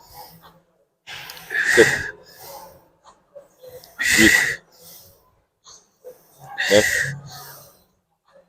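Heavy, forceful breaths during a coached exercise session, three loud wheezy exhalations spaced a couple of seconds apart, each one close and strong, with faint counting between them.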